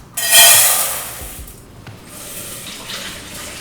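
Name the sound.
water pouring into rice pot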